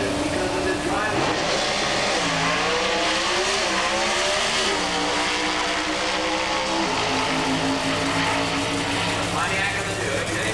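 Pro Stock drag race cars, a Pontiac and a Buick, at the 1988 US Nationals, a loud unbroken engine roar whose pitch climbs and shifts as the cars run, with voices faintly underneath.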